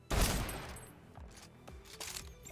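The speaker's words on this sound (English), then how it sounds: "I was definitely shooting them on the head." Gunfire while shooting enemies in Snowbreak: Containment Zone, starting with a loud burst of rapid shots that fades into scattered quieter bursts and single cracks.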